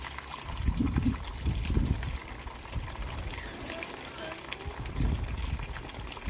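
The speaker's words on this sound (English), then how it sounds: "look at all the black liquid coming out. It's all the worm juice" Dark liquid drains out of a worm farm in an irregular trickle and splash, loudest in bursts near the start and end, with faint outdoor background noise.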